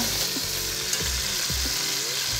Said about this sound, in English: first we sear and then we're gonna braise it